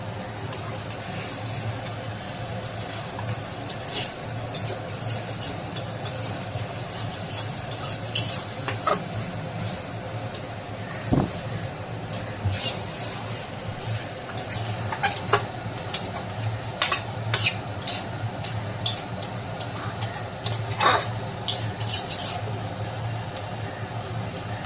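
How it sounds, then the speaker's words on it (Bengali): Mutton curry is stirred and sautéed in a pan, with a steady sizzle under constant scraping and clinking of a spoon against metal, continuous and close for the whole stretch. "এখন ভালোভাবে কষে নেব।"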